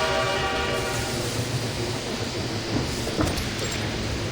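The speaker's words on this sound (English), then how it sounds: "The train pulls into the station with a long whistle." In the game Reverse 1999, a train rolls into a station, its heavy rumble and faint clatter steady and loud, with a sustained whistle-like tone running underneath and no talking.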